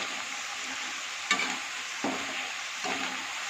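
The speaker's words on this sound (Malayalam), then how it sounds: "അങ്ങനെ ഇതാ ഉപ്പേരി തയ്യാറാക്കിക്കൊണ്ടിരിക്കുന്നു." Banana chips (upperi) frying in hot oil in a pan, a loud continuous sizzle with a few soft stirring scrapes at intervals, no talking.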